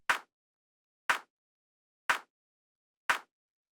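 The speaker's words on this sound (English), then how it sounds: "So the next thing that we have here is the clap" A layered clap sample with a rimshot beneath it, struck four times at an even one-second pulse, each hit short and snappy with a quick decay, alone and moderately quiet.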